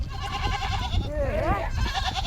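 A goat bleats with wavering, quavering calls while being washed in a village pond, heard close under a steady outdoor background with people talking nearby.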